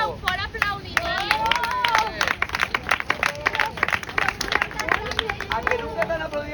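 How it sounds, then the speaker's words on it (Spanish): A crowd at an outdoor street show in Vila-seca cheers and claps, dense clapping mixed with excited chatter and voices throughout, steady and close. "¿A que nunca te han aplaudido por abrir un estuche, Ángel?"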